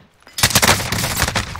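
Gunfire in Call of Duty Warzone erupts after a brief quiet moment, a loud burst of rapid close shots rattling on continuously for over a second.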